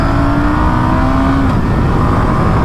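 A 2022 Indian Scout Bobber motorcycle engine drops into first gear, its steady loud drone holding a tone that slides and breaks off partway through under a constant roar of wind and road.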